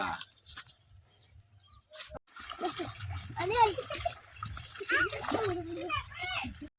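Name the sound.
running water splashing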